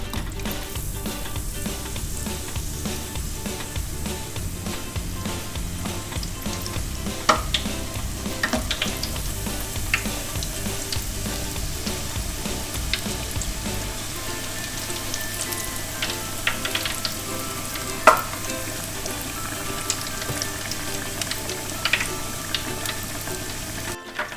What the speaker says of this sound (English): always start with your thickest pieces of cod when you're doing these goujons. Give them a good coating, and then into your oil.